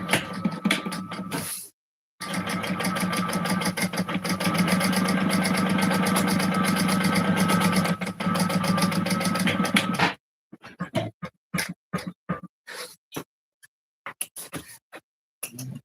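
A sewing machine stitches a seam on a fabric wallet in a steady, fast mechanical whir lasting several seconds after a brief pause, then stops and gives way to short, sparse clicks and handling noises.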